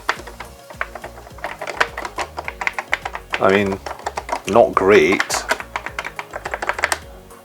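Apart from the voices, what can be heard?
typing on Nintendo Famicom family computer keyboard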